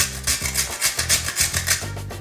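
An apple rubbed against a hand grater for an applejack cocktail, a rhythmic series of about eight rasping strokes, close and fairly loud, with no talking.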